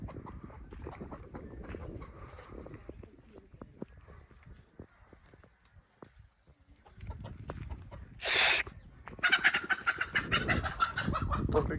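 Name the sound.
hen (chicken) clucking on a farm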